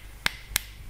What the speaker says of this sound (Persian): چند مدل بشکن داریم.